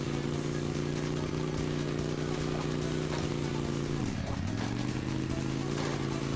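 A Harley-Davidson motorcycle engine in the video game Hill Climb Racing 2, heard as a continuous loud, buzzing drone that holds steady, drops sharply in pitch for a moment, then climbs back up.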